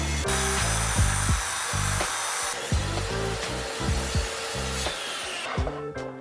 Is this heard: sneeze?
no